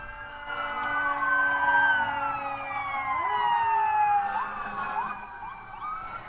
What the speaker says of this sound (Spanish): Decenas de carros de bomberos del condado de Miami-Dade, en la Florida, sonaron sus sirenas al unísono.